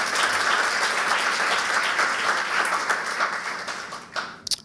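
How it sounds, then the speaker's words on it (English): Audience applause at a school board of education meeting honoring high school staff, a steady wash of clapping for several seconds that fades out near the end with a few last claps. "So a round of applause for them as well."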